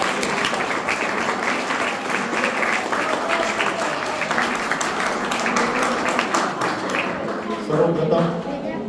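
Dense audience applause at an academy event, many hands clapping steadily and loudly for several seconds before thinning out.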